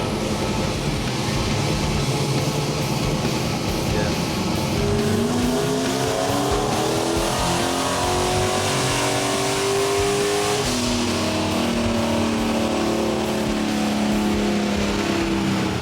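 A drag truck engine, likely a Silverado, revs hard on a dyno, a loud continuous roar climbing steadily in pitch through the gears with rising whine, close and sustained for the whole stretch.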